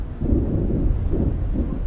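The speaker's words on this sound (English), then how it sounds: "Ooh, it's coming close. The thunder, I saw a bit of lightning." Low rolling rumble of thunder from a thunderstorm in the South African bush on safari, a steady deep roar that swells and sustains through the moment, with no other sounds standing out.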